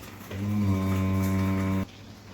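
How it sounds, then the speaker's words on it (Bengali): A ten-month-old Holstein Friesian heifer calf lets out a single long, loud moo lasting over a second, close by, followed by quiet farmyard background. "এটা একটা ফ্রিজিয়ান বকনা বাছুর।"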